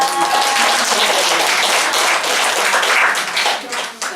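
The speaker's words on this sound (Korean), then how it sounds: "박수 한번 보내주시면" An audience claps steadily for a few seconds, a dense, sustained round of applause from many hands indoors.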